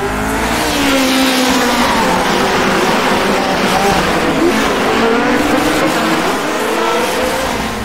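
Vintage race cars in a racing sim video game roar past at full throttle while the car ahead spins, a loud continuous engine drone with rising and falling pitch and a tire squeal mixed in.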